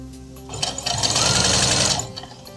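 A sewing machine bastes a crocheted blanket seam with a wide stitch, running in one close, rapid mechanical burst of about a second and a half before stopping.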